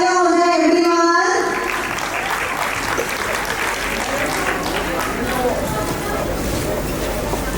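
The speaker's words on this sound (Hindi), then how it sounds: "एक बार जोरदार तालियां हो जाए एवरीवन।" Loud applause from an audience at a preschool annual day, a steady dense patter of many hands clapping that carries on throughout after a brief opening tone.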